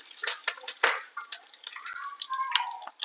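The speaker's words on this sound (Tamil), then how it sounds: "இப்போ எடுத்துருக்கிற கடுகு, உளுத்தம்பருப்பு, கருவேப்பிலை எல்லாத்தையும் சேர்த்து தாளிச்சிக்கலாம்." Mustard seeds, urad dal and curry leaves hit hot oil for a tempering, giving sharp irregular pops and crackles with a light sizzle, close by and with no talk.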